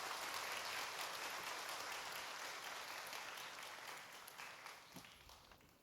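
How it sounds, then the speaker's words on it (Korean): Congregation applause welcoming a pastor at a Korean church worship service, a dense, steady wash of many hands clapping that gradually thins and fades toward the end. "지지하는 의미에서 박수로 환영하시겠습니다"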